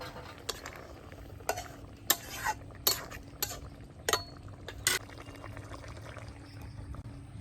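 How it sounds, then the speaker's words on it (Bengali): Pona fish curry being poured and served, quiet with sharp clinks of a spoon or ladle against a metal pot scattered among soft scraping and faint sizzling. "এবার আমি ঢেলে নেব।"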